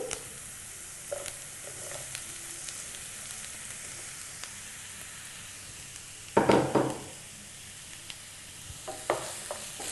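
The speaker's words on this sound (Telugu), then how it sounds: "ఈ దొండకాయలు ఆనియన్స్ అన్నీ కూడా ఆయిల్లో బాగా వేగనివ్వాలి బాగా కలిపేసి" Ivy gourd and onions fry quietly in oil under a soft continuous sizzle, with occasional stirring scrapes and one louder clatter near the end, and no talking.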